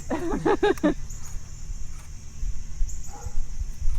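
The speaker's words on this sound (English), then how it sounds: "Oh, there is a doggy here." A dog at an outdoor fall family photo session gives a quick burst of three or four close barks, followed by quiet outdoor ambience with a faint distant sound near the end.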